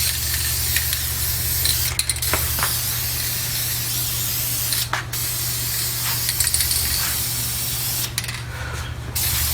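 Steady hissing spray from a paint can or spray gun applying clear coat rust protector on a 1970 Ford LTD, continuous and close with brief pauses, over a low constant hum.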